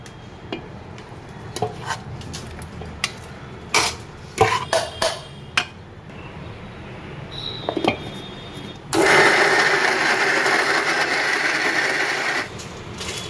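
Kitchen mixer grinder blending cooled chole gravy into a paste: scattered clicks and clatters of the jar being set up, then a loud steady whirring roar for several seconds that stops abruptly.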